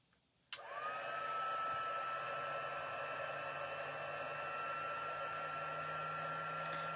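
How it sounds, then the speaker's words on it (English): A craft heat tool used for embossing switches on with a click and then blows hot air in a steady, loud whine like a blow dryer, continuing unbroken with no speech. "It's like a blow dryer, so it's going to be a little loud."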